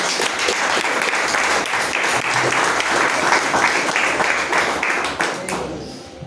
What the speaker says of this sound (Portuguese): Aplauda o nome do Senhor Jesus.